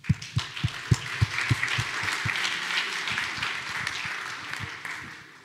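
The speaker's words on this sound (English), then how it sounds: "Let's give him a round of applause." Audience applause for a speaker being introduced at the PGConf.EU 2024 PostgreSQL conference, opening with a few distinct claps that swell into steady, dense clapping from the hall before tapering off.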